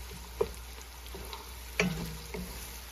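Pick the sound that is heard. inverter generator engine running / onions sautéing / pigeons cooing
onions sautéing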